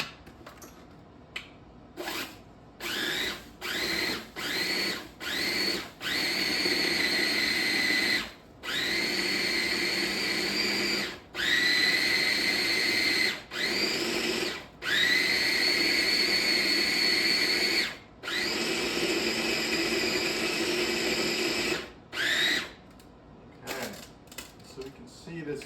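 An electric grinder churns a spring roll filling mixture in repeated bursts, a loud whirring motor starting and stopping many times with short pauses between runs and a few longer continuous grinds.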